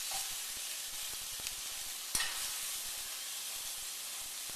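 Onions sizzling alongside browned rouladen in a hot pan, a steady bright hiss of frying with a few soft taps and one sharp clunk, close and continuous.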